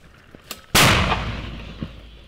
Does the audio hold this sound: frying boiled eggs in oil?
no